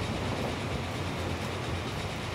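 A steam train rolls into a station in the Transport Fever video game on a Canadian Great Lakes route, producing a steady, dense rumbling roar of moving rail cars that stays loud and unbroken throughout, with no voices.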